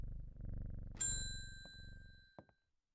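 A cat in the game Strange Horticulture purrs softly in low, rhythmic rumbles. A bright bell-like ding cuts in and rings out, followed by a couple of faint clicks as the purr fades to quiet.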